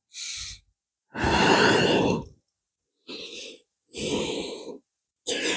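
Slow, deep breaths during a yoga forward fold, about five loud airy inhales and exhales separated by silent pauses, close and breathy.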